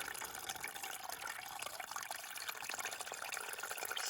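Water from a trail spring source pours steadily into a squeeze filter bag on the Appalachian Trail in the Great Smokies, a soft continuous hissing gurgle with no voices.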